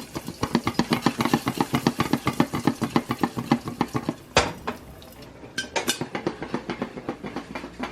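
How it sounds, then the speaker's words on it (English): A pot of popcorn kernels shaken on a home stovetop, giving a steady rhythmic metallic rattle and scrape of pot against burner, with a few sharper clanks partway through and no speech. "Now you gotta shake it up."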